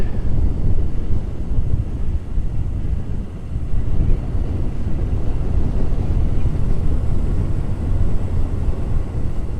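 Steady heavy wind buffeting the microphone of a weekend bike ridden on a sunny, chilly day with an easterly blowing, a dense low roar that continues without a break throughout.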